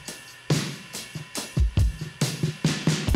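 Live acoustic drums layered with drum samples on a pop song, giving dense, full kick and snare hits with heavy low thumps and bright splashes in a driving rhythm, loud and close.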